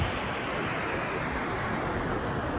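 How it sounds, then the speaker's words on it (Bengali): Sea waves roar along a shore in a steady, unbroken wash of noise, loud and close, with wind buffeting through it and no voices. "সমুদ্রের ঢেউ গর্জন শুনতে অনেক ভালো লাগে।"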